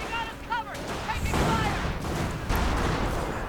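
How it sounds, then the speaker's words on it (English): Artillery fire in a WWII strategy video game, shells landing on the center of a town: a dense, continuous rumble of blasts and crackling gunfire, with a brief whistling tone near the start and a heavy impact around the middle. "More artillery going down into the center of town."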